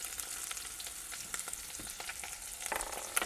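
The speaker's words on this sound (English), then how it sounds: "give it a little stir. This is on a high heat until we get these shells nice and pink." Shellfish shells fry over high heat in a pan, a close, steady sizzle broken by scraping bursts as they are stirred.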